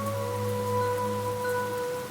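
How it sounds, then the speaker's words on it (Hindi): Heavy rain falls steadily as a sound effect behind a Hindi horror story, a constant dense hiss with faint tonal hums beneath it throughout. "तेज बारिश हो रही थी।"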